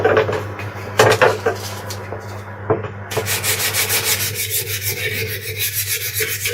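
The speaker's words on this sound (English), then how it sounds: "So just start off with some 40 grit sandpaper." A garden tool blade is scraped with coarse 40 grit sandpaper in rhythmic back-and-forth strokes, close and loud, with a few knocks of handling early on before steady rubbing.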